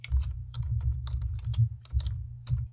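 Typing on a computer keyboard in Word 2016, a short burst of quick, close key clicks in an uneven rhythm, with a low hum underneath.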